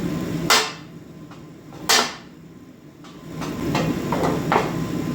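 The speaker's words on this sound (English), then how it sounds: "let's do some walloping" Metal warmed with a propane torch is struck with a hammer during work on car headers and side pipes: two loud, sharp blows followed by several lighter taps, close up over a steady background hiss.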